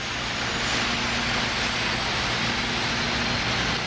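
An SR-71 Blackbird jet engine whines loudly at start-up on the tarmac, a dense, unbroken roar with a faint steady tone running through it.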